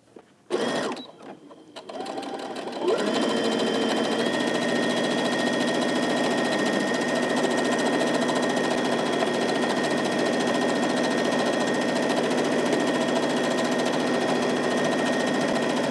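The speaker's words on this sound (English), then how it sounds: "we're going to sew these 2 pieces together to create one continuous piece" A sewing machine runs steadily, stitching two fabric pieces together for a maxi skirt, starting after a few brief bumps and then holding a continuous loud motor whir with no talking.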